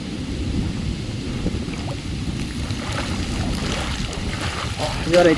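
Heavy rain pours down during an outdoor storm on a fishing trip, a dense, steady roar of rainfall mixed with gusting wind, continuous and fairly loud throughout, with a slight surge near the end.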